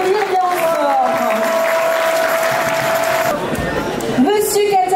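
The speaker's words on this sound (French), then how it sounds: "On peut les applaudir bien fort." Audience applause for bronze medal recipients honoured for 20 years of service at the Festival des Musiques du Faucigny in Taninges, Haute-Savoie, steady clapping through most of the moment with a sustained tonal note and voices mixed in.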